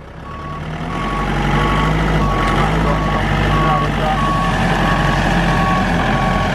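A forklift truck reversing and maneuvering against a wall, its intermittent reversing beeps repeating over a loud, steady engine drone close by.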